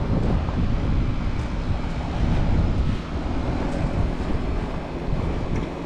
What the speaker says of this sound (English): Well, it cranks.